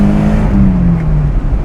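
A BMW E21 320is with Bilstein shocks and struts revs hard under acceleration, a loud, close engine drone climbing steadily in pitch from inside the car, with no talking over it.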